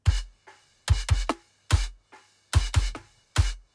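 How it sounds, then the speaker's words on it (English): A close-miked kick drum with a boosted knocky midrange thumps alone in an irregular pattern of about eight punchy, deep hits separated by short silences. "with the kick close mics"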